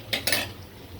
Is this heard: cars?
no